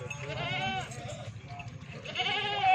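A dairy goat that gives five litres of milk bleats twice up close: a long, wavering cry at the start and a second one near the end, with a low murmur of background voices underneath.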